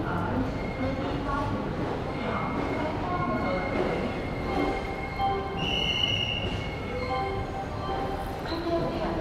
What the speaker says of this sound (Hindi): यहाँ पर 3:27 पे ऑन टाइम डिपार्चर हो गया हमारा जयपुर जंक्शन रेलवे स्टेशन